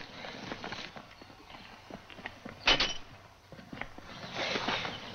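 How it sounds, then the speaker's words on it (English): Horses from an old Western film setting move past with irregular hoof clip-clops at mid distance, set against background noise with a brief sharp clatter midway. "Those are our horses."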